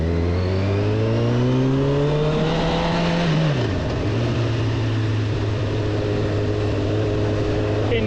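A Honda CB1000R motorcycle engine revs up through a rising pitch while riding through Edinburgh, drops sharply on a gear change, then settles into a steady loud drone, close to the rider amid wind noise.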